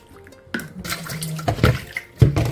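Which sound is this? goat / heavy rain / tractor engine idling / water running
water running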